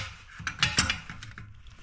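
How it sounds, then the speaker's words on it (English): A wrench tightening the nut on a toilet valve, a string of short metallic clicks and ratcheting scrapes, close and moderately loud, with no talking. "You want to take your wrench and tighten it."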